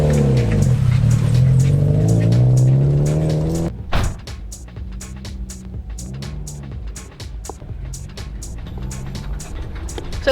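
A Subaru WRX rally car is driven hard on forest stages, its engine revving loudly near the microphone before a sharp drop. After that, quicker gear-change pulses and rising and falling revs carry on at a lower level.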